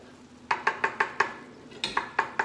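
A spoon stirs food in a pot, about nine distinct clinking scrapes in two bursts, close and fairly clear with no talking.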